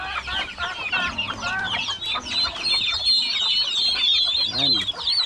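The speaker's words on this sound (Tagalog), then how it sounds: "Pabo at saka manok." Turkeys and chickens on a farm cluck and chatter close by, a busy overlapping mix of short calls with a gobbling-like burst near the end.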